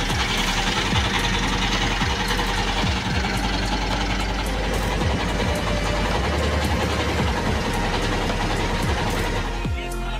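Motorboat engine chugging steadily on Kaptai Lake, a continuous loud drone with low rhythmic pulses throughout, close and unbroken, with no talk.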